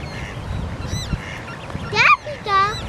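Waterbird chicks squeak near a duck family, with thin high calls popping up between goose-like honks over a background murmur that may include talk.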